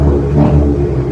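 A Ford Fiesta ST with a straight-piped exhaust and deleted resonator revs in a brief, loud, low rumbling burst that swells and eases, close up and with no talking.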